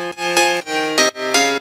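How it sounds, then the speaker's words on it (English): House piano from the M1 fader preset plays bright, sustained chord stabs in a steady rhythm, loud and upfront with no voices. "It's a house piano. We use the M1 and the fader preset."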